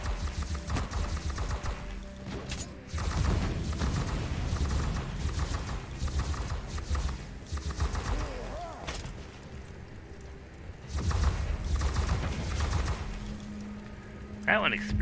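Explosions and gunfire in Warhammer 40k: Inquisitor - Martyr, repeated bursts and thumps mixed with steady combat noise, with someone talking over parts of it.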